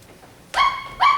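Brownie, a pet dog in a school stage play, lets out two sharp, loud, close barks in quick succession, the second following about half a second after the first.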